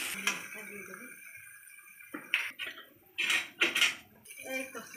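A spoon clatters against a metal cooking pan as fish curry with red chilli powder is stirred, giving intermittent scraping and clinking strikes with quiet gaps between.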